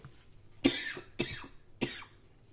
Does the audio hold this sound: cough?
yes